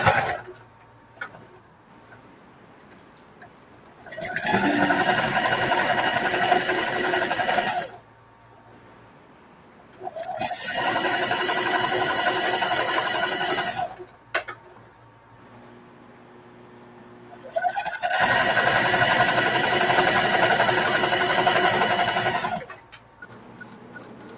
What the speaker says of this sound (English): I'm gonna just keep sewing mine until I'm finished.